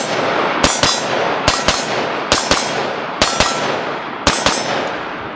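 Rifle shots ring off steel targets at 50 yards: five pairs of sharp cracks, each followed by a clanging metallic ping, arriving in an even rhythm with no talking.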